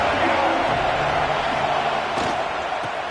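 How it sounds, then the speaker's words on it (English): A stadium crowd at a football game keeps up a dense, steady roar of cheering and chatter throughout, loud and unbroken, with a brief swell of noise partway through. "This crowd ready to make its presence known."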